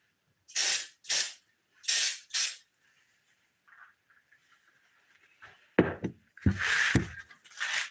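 A spray can hisses onto Trx 250R ATV parts in four short sharp bursts near the mic. A quieter pause follows, then knocks and a longer, louder spray.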